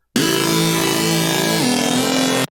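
A sustained, buzzy Serum synthesizer preset tone with a rich harmonic drone that shifts to a lower pitch partway through, then cuts off abruptly.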